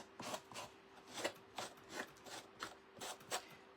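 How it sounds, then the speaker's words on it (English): Sandpaper rubbing over small wooden parts of a rustic hanging chicken wood kit, a rough sanding in steady back-and-forth strokes, about two per second, close and fairly soft. "I'm just going to give them a little bit of a rough sand, just so I can get that detail"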